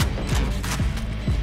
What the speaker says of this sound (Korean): 재장전